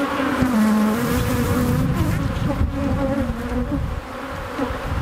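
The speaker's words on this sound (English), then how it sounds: "those bees can get through that mesh and get me" Honey bees swarming around an open beehive during a nectar dearth, a dense steady buzzing drone close by, loud and continuous.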